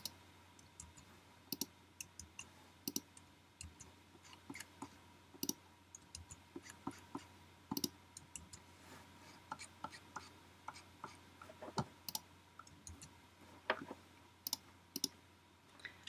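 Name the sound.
computer mouse clicking while editing artboards in Adobe Illustrator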